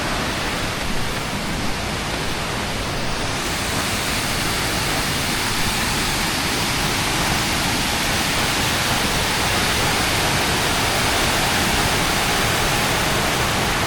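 Floodwater pours through the opened spillway gates of Nachchaduwa Tank after heavy rain, making a constant, powerful roar of rushing water that stays even and loud throughout.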